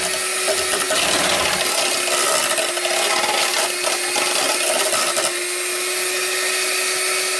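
Electric beater whipping candle wax with white flakes in a bowl, a loud, steady motor whir with a constant hum and rattling, grinding texture, close and continuous throughout.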